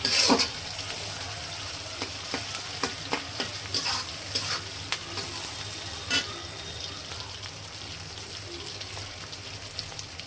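Onions and green chillies sizzle in oil with cumin, a steady close crackle with small pops and occasional stirring scrapes, no talking.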